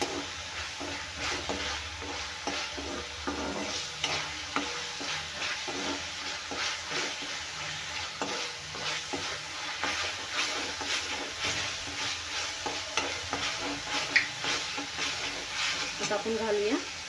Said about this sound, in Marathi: आता घालूया कढीपत्ता. यालाही भाजून घेऊया.